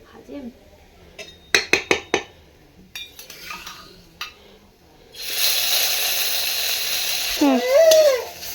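Marinated chicken with cumin, ginger and chili fries in a pan, making a steady sizzle in the second half, preceded by sharp metal clinks of utensil on pan and faint talk.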